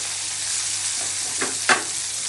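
Chopped onion and a dried red chili fry in hot oil, giving an even, close sizzle with a couple of brief stirring scrapes near the end.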